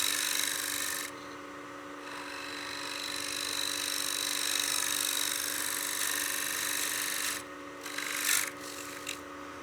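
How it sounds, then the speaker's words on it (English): Lathe tool smooths the bottom of a turned wooden coin box, giving a steady rasping scrape over the machine's constant hum, then a pause and a few short scraping touches near the end. "Right now I'm just smoothing out the bottom, trying to give myself a nice clean cut."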